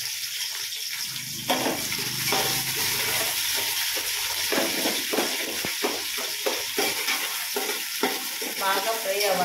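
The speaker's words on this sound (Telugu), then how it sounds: "ఆనియన్స్ వేస్తున్నాను." Onions frying in a pan of oil for biryani give a steady sizzle broken by scraping stirs of a spoon, close and moderately quiet.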